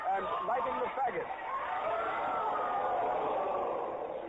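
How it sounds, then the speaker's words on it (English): A crowd at Joan of Arc's burning at the stake roars in protest in a historical radio drama, a dense swell of shouting voices that builds and holds, with a narrator speaking over the opening. "The crowd has reacted in one great convulsive protest"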